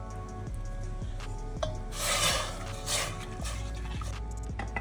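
Oats, millets, turmeric and salt are stirred together in water in a kitchen pot, a continuous close scraping swirl of the spoon over a low steady hum, without talk.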